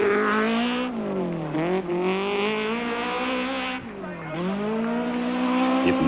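A rally car attacks a special stage at the 1993 Swartland Rally, its engine revving hard and close, pitch climbing and dropping through repeated gear changes and lifts, with brief tyre noise between bursts of acceleration.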